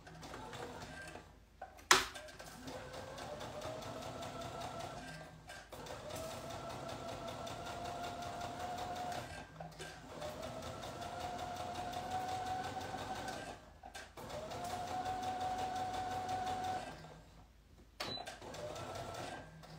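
A sewing machine runs in long stretches of steady, rapid whirring stitches with brief pauses between runs, heard close in a quiet room, with barely any talking.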